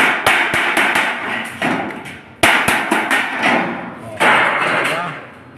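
Hammer blows strike a metal roof gutter being joined without rivets, sharp close thumps in irregular bursts with ringing metallic decay between strikes.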